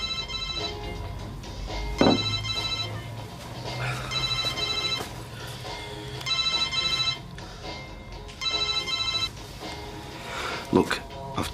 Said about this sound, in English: That your phone keeps going.